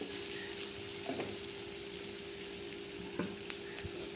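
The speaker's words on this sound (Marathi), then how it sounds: "छान असं परतून घेते." Homemade red masala sautés in a pan for a Konkani-style prawn curry (kolambi kalvan), giving a soft, steady sizzle with a few light stirring scrapes and taps throughout.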